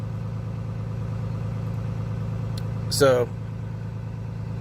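A RAM 2500 pickup's engine idles at raised RPM, around 1,000, as a steady low drone throughout. A short voice is heard near the end.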